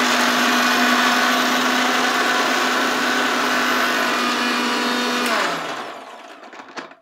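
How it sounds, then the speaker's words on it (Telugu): A kitchen mixer grinder runs loud and steady for about five seconds, then switches off and whirs down to near silence. "జస్ట్ నేను మిక్సీ పడుతున్నాను అంతే"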